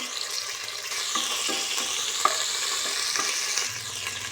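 Ginger garlic paste with green chilli, cinnamon, cloves and cardamom frying in oil for chicken kurma, a loud continuous sizzle with stirring scrapes and clinks, nobody speaking.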